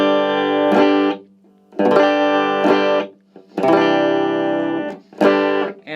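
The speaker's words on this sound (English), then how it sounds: "So we're using my Orange 35 RT amp, and I've turned the reverb off on it, so we're just on the clean channel" A Squier Affinity Telecaster played through an Orange 35 RT amp on the clean channel with reverb off rings out in four separate strummed chords, each held about a second, with brief near-silent gaps between them.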